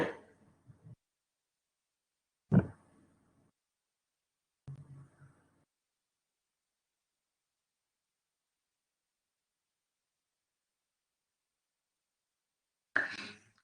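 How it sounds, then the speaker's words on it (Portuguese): A few separate coughs, close by, spaced out with long silences between them, the last one short and sharp. "Deu, parei de tossir."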